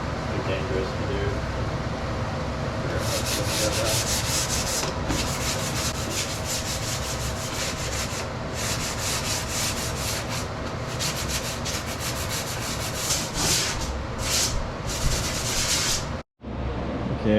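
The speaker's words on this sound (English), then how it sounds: "Okay, I got this all sanded down" Wood being sanded by hand for a hallway bookshelf, a steady broad rubbing that swells into repeated scratchy strokes, close and continuous over a background hum, stopping briefly near the end.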